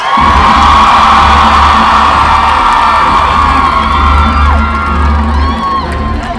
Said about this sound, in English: Please give a round of applause and welcome